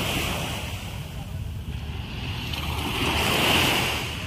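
Sea waves roll in on a rising tide at a beach, a soft, continuous wash of surf with wind noise that swells gently toward the end, heard alone without talk.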